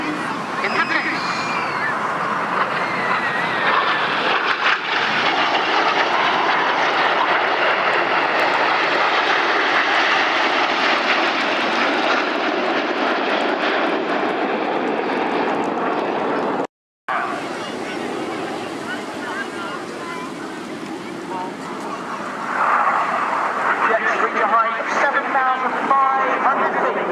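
Red Arrows display jets at the 2013 Swansea Airshow, a loud sustained jet roar that swells and fades over a seaside crowd murmur, with a commentator talking over it and a brief dropout partway.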